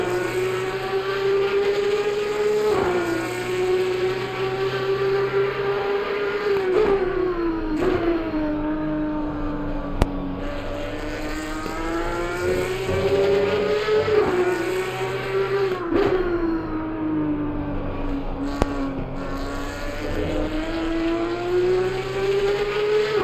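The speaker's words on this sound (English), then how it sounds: "Let's listen to his engine then. The final roar of these Porsche cars one last time." Porsche Supercup race car engine in Assetto Corsa Competizione at Watkins Glen, roaring loud and steady throughout, its pitch rising and falling with repeated gear shifts and throttle changes.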